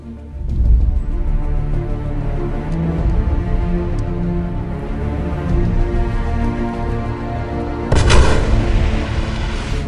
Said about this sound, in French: le Joker s'amuse avec la télécommande lors de l'explosion à l'hôpital